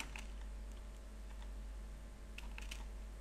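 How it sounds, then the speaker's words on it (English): Quick, scattered keystrokes on a computer keyboard tap out in short bursts, faint and close over a steady low electrical hum. "So we need to type those down very fast"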